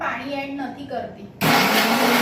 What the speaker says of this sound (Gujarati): તો હવે હું આને મિક્સીમાં ગ્રાઇન્ડ કરી લઉં